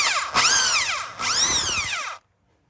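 A power drill whirs in two bursts while pinning a Hellcat engine crankshaft, spinning up with rising and falling pitch, close and loud, then cuts off into silence.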